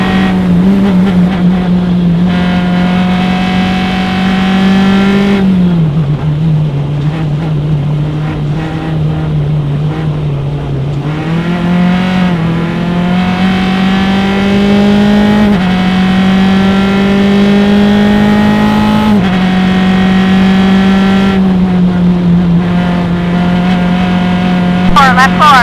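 Race cars lapping hard at a Mid-Ohio SCCA club sprint race, a loud sustained engine drone rising and falling through gear changes, with commentary voices talking over it throughout.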